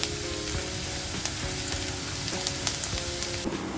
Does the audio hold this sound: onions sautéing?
yes